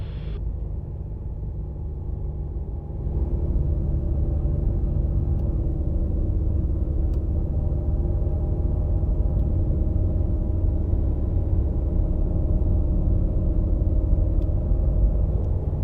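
Light aircraft engine held at 1000 RPM with the parking brake set on the ground, a steady loud drone that steps up slightly in level after the first few seconds and then holds constant with no talk.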